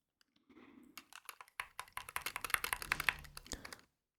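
Someone types on a Wooting 60HE keyboard in a rapid, irregular run of close, crisp key taps that builds in loudness before stopping, with no talking.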